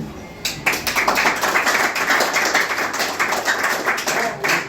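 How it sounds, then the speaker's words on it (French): Applause from a group at a philosophy students' celebration, dense clapping that swells in after a brief quieter moment and continues steadily, fairly close. "Applaudissez-vous"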